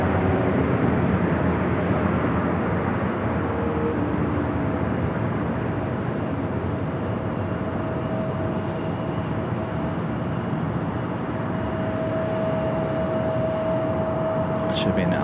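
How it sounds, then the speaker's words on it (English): A China Southern Boeing 777 freighter lands on runway 25L at LAX, producing a loud, steady broadband engine roar and rumble with a sustained tone and no break. "A China Southern 777 freighter touching down at 25 left."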